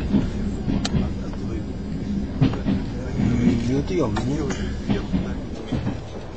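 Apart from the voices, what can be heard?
train riding on rails toward Vladivostok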